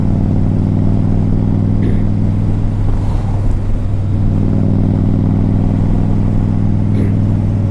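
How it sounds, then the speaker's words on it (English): A 2010 Honda Stateline motorcycle with a five-speed gearbox accelerates steadily up through its gears, with a loud, continuous engine drone and a few brief shift breaks. "We'll accelerate a little bit out of first and second gear. Third, fourth, fifth."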